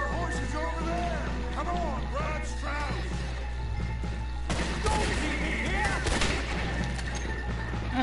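Gunfire in Red Dead Redemption 2: a steady crackle of shots and bursts that becomes denser midway, layered over a constant low game-music drone and tonal effects.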